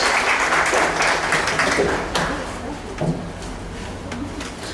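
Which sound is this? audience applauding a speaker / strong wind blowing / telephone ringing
audience applauding a speaker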